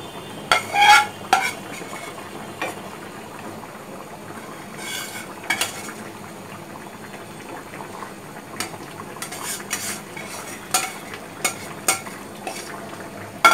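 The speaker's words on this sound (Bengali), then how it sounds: "আমি একটু মাছগুলোকে উঠিয়ে উঠিয়ে দিলাম।" Spoon stirring hilsa fish and bottle gourd curry in a pan, with scattered scrapes and clinks over a soft simmering sizzle, close and fairly quiet.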